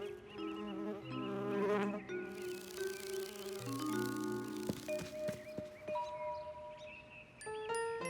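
A buzzing bee in a French children's cartoon, a wavering high drone mixed with bright musical tones and chimes, fairly soft and continuous.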